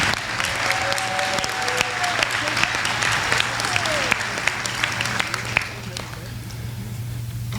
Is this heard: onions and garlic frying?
no